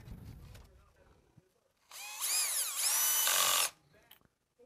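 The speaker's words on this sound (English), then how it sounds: "Hopefully that noise of the drill isn't too terrible." A cordless drill drives three screws through a retaining cover into an IKEA BEKANT sit-stand desk frame, whining loud and close in about two bursts with a short dip between, after quiet handling sounds.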